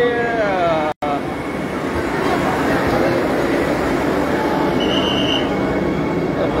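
A crowded Vande Bharat express train at its inaugural run in Jalna rumbles loudly and continuously with broadband rolling noise, a brief tonal squeal near the start, a short dropout, and a faint high whine later.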